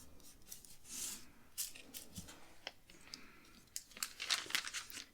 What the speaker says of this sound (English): So I'm just going to use my tape runner and attach my photo just like that.